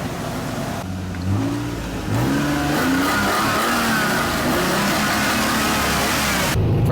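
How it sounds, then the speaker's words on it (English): An Impala on a test drive after a new timing belt: the engine revs up through rising gear pulls, a loud continuous mid-pitched drone with road noise inside the car. "we got a new timing belt on. Let's go see how this Impala drives."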